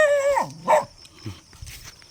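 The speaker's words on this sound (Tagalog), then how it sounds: "May aso." A dog yelps and barks a few times, close by, with a brief whine between the barks.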